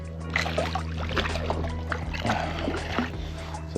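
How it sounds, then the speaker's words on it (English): A freshly hooked redfish splashes and thrashes in the water beside docks, producing irregular wet slaps and drips close by, with boat noise underneath. "He is splashing us down."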